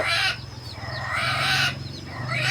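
A small Thai fighting rooster crows twice nearby, each call a rising, wavering cock-a-doodle about a second long, over a low hum, with no talking.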